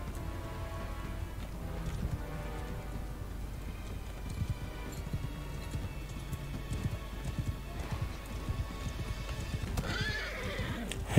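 Horses gallop with steady clip-clop hoofbeats and repeated neighs during a Mount & Blade II: Bannerlord cavalry charge in the Khuzait lands, set against a continuous hiss like rain and battle noise, with no talk.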